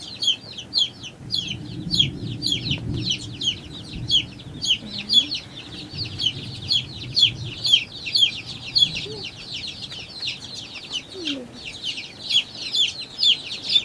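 Baby partridge silkie chicks chirp nonstop, a dense, close flock of high peeping calls with a faint low rumble beneath.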